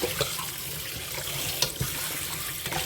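Tap water runs steadily into a sink while catfish are washed clean of slime, a close, continuous splashing rush with small knocks.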